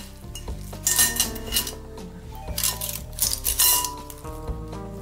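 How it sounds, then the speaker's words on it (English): Meatballs for Italian wedding soup dropped into a hot pan, several distinct clinks and taps against metal over a sizzle, arriving in uneven bursts close by. "my meatballs are in the pan"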